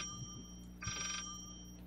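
Electronic telephone ring in a horror video game: a brief, moderately loud ringing burst over a faint low ambient drone.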